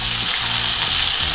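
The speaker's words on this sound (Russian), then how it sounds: "И обжаривать будем с обратной стороны." A loud, steady sizzle of a burger patty frying in a hot pan, continuous crackling hiss with no voices.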